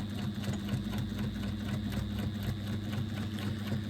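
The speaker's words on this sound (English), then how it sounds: "When I base stitch, I'm using a number 6 stitch, a stitch length of 6 on my machine." A home sewing machine runs steadily at a long stitch length, giving a fast, even mechanical whir with a rapid needle rhythm, close and uninterrupted, with no talking.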